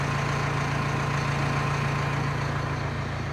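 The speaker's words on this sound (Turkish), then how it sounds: "Motor sesi değişti." A car engine idling on a snowy farm morning, a steady low hum with constant loudness and a faint whine above it, running alone without talk throughout.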